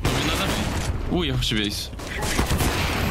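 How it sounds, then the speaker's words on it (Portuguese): Loud, dense game gunfire runs throughout, with a person's voice speaking briefly over the shooting midway. "Um tiro, mano!"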